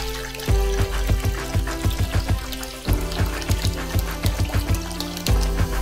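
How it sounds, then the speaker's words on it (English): Two cups of sparkling water pour into a blender for a green smoothie, a steady loud liquid stream with rhythmic glugging pulses throughout, no talking. "we're gonna go with two cups of sparkling water"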